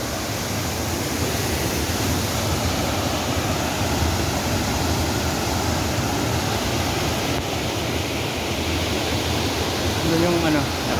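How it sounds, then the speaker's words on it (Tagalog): Chambok waterfall in Cambodia roaring as a steady, loud wash of broadband noise, continuous and unbroken from start to end with no talk. "Tignan nyo naman ang water falls."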